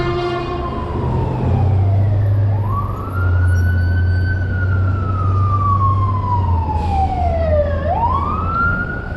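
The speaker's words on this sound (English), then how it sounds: "Ambulance coming over here, fire truck." A loud wailing ambulance or fire truck siren sweeps up and down in long slow cycles over the low rumble of a heavy vehicle engine nearby, on a street in Los Angeles.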